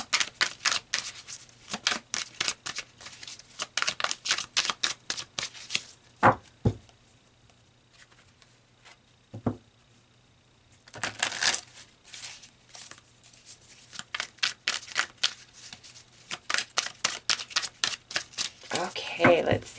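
Tarot cards being shuffled in bursts of rapid riffling and flicking, with a few pauses and isolated taps between runs, close and fairly loud, with no talking over it.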